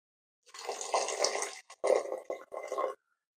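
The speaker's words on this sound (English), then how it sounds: "To make sure it doesn't burn, I'm gonna use some of that hot water." Hot water poured into a pot of cooking lamb madras, a close splashing pour in two or three bursts with short pauses, then stopping.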